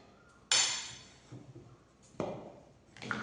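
A spoon clinks and scrapes against a bowl while coconut, jaggery and jackfruit are mixed, giving three sharp knocks with quieter scraping between them, close and clear.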